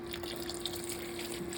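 Tap water running steadily into a kitchen sink to soak jalapeños in vinegar water, a continuous broadband rushing with a constant hum underneath, close and fairly loud.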